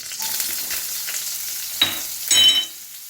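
Three shallots, ginger and garlic frying in a pan for a mushroom curry: a soft background sizzle with two sharper bursts of crackling spatter near the end.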